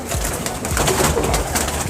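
A young pigeon coos close by, soft low throaty calls that repeat over a noisy background.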